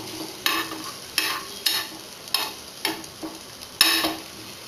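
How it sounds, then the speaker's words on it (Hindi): Tomato and grated coconut fry in a pan with a steady background sizzle, broken by about seven sharp scraping strokes of a spoon stirring at an irregular pace, close and fairly loud, with no voices. "जो घिसा हुआ कोकोनट है या फिर जो मार्केट में पाउडर अवेलेबल होता है उसको 2 चम्मच आपको इस टमाटर के साथ मिला लेना है और इसको फ्राई करना है"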